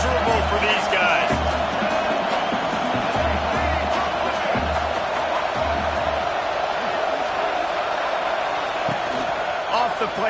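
Loud, sustained roar of a stadium crowd at a Wisconsin vs Maryland college football game, dense and continuous with whoops and bursts of noise, and a commentator's voice talking over it.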